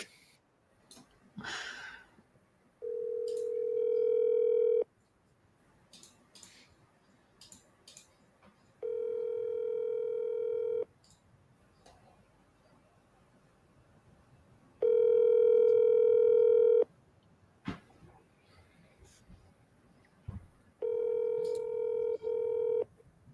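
Telephone ringback tones while calling through a list, four steady two-second tones spaced several seconds apart, with quiet breathing and small clicks between them.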